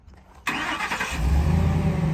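A 2012 Ford F-350 crane utility truck's 6.2-liter gasoline V8 cranks and catches after a brief starter whir, then settles into a loud, deep, steady rumble close by.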